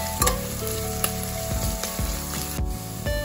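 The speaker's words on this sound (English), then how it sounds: "Fry until onion turns golden brown." Onions frying toward golden brown for an aloo mutton curry make a dense, close sizzle, broken by several sharp scrapes and knocks of a spatula against the pan.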